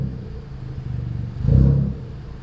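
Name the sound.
Ford Fiesta Zetec S with Cobra exhaust driving in car park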